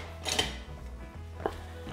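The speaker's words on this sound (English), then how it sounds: "So now I'm just going to mix all this in properly." A spoon mixes fried chicken ingredients in a bowl, giving two short close scrapes and clinks about a second apart, with quiet room tone between.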